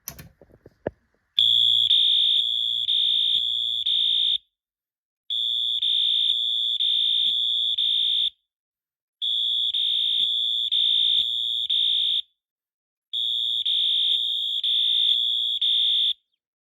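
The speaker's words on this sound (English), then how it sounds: "here's both the Eluxa and the MT doing code 3 horn, both on high volume" Eaton Wheelock Eluxa and MT horn strobes sound together on high volume in a code 3 temporal pattern: four loud, piercing groups of three horn blasts, each group followed by a silent pause.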